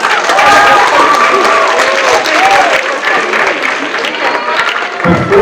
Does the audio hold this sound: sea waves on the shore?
no